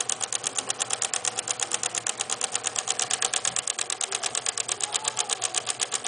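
A homemade electric engine with a flywheel runs steadily, producing a fast, even mechanical clatter of about eight ticks per second with a buzzing contact rasp, close and loud with no talking.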